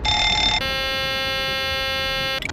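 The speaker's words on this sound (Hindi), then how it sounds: "मास्टर कॉशन अलार्म बजने लगा।" A cockpit master caution alarm aboard Air India Flight 101 on approach, a loud, steady electronic tone that shifts to a brighter, higher pitch partway through and sounds continuously before cutting off at the end.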